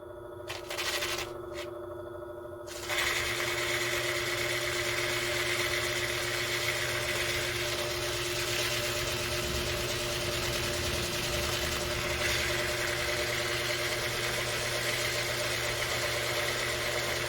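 A Hi-Tech diamond flat lap converted into a carpet wheel runs with a steady motor hum and whirring drone, starting up after a few seconds of quieter sound and holding an even, continuous level throughout.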